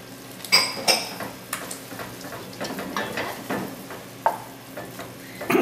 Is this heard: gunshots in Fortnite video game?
no